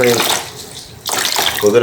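Running water and splashing continue steadily while a newborn baby is washed with clean water and a damp washcloth, loud and close, with a brief dip partway through and speech layered over it.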